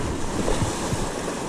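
Wind-driven swell breaks against the Lake Tahoe shore in a continuous rushing wash of surf, with heavy wind buffeting the microphone and no speech.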